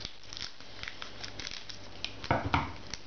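Small scissors being picked up and handled, giving a few faint metallic clicks and rustles with a couple of slightly louder snaps near the end, with no voice.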